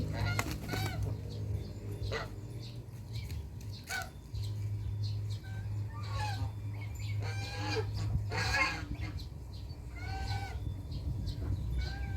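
Geese and other poultry honk and cluck in a Thai farmyard as they are caught to be given medicine, with a steady low hum beneath scattered calls and flapping throughout.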